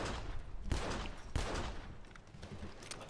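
Video game gunfire crackles in dense, continuous bursts with a few sharper shots standing out, loud and close throughout.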